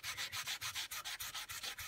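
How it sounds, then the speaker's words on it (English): Hand sanding a guitar body with sandpaper to smooth out a dent, with quick, even back-and-forth strokes, about a dozen rhythmic rasps, close and clear. "let's start by sanding it down"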